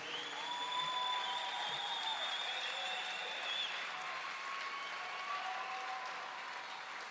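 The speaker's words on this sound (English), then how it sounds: "Round of applause," Steady crowd applause in a velodrome during the Oceania Track Cycling Championships in Brisbane, moderately distant and continuous for about seven seconds, with faint tonal whistles or squeaks above the clapping.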